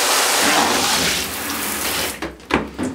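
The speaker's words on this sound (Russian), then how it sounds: "Ну все, набрали в таз воды." Water from a tap gushes steadily into a basin for about two seconds, loud and close, then cuts off into a few brief splashes and drips.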